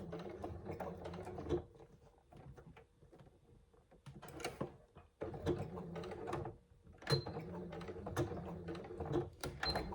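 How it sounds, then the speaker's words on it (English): A sewing machine back stitches a bag strap in short bursts of rapid mechanical whirring and needle clatter, separated by brief quiet pauses, heard close and fairly soft. "Just lift up my presser foot and back stitch."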